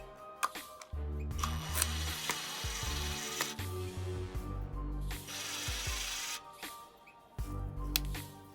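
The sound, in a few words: cordless drill removing a screw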